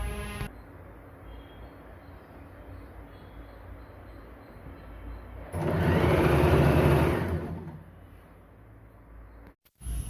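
Sewing machine stitching palazzo pant fabric, starting with a steady low mechanical whir that swells into a louder, faster run of stitching around the middle before slowing and cutting off near the end.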